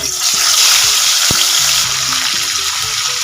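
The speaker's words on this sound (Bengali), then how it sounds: "তেলটা আমাদের খুব ভালো মতো গরম হয়ে গেছে এবার এর মধ্যে মাছগুলো দিয়ে ভেজে নেব" Pomfret fish sizzling loudly in hot refined oil in a kadai, a steady dense crackle throughout with a sharp tap near the middle.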